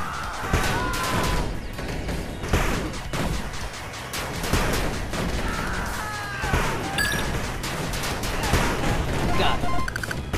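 Units opening fire in the 8-Bit Armies strategy game: rapid, overlapping bursts of gunfire and crashing explosions rattle on loudly for ten seconds, with short voiced unit callouts mixed in.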